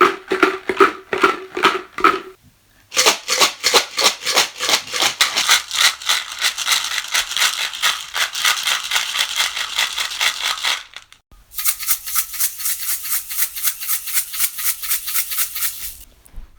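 Containers filled with dry pasta and beads shaken hard in bursts, a dense rapid rattling that runs steadily for several seconds, stops, then resumes brighter and sharper, loud and close without talk.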